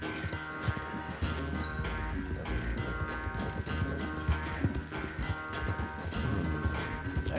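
A horse gallops during a race in the game Red Dead Redemption 2, its hooves thudding in a quick, continuous rhythm under a bed of game music and ambience.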